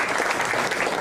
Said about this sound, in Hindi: विशाल के लिए भी ताली हो जाएगा।